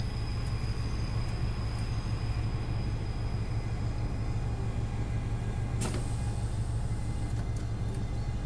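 A train in the Train Sim game rumbles steadily at Plymouth station on the Penzance to Plymouth route, a constant low drone with a sharp click partway through.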